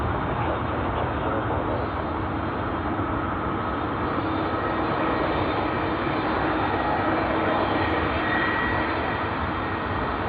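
A Cathay Pacific Airbus A350-900, B-LRJ, in 80th anniversary livery, lands at Sydney Airport. A continuous broadband jet roar holds at a steady, loud level throughout, with no talk over it.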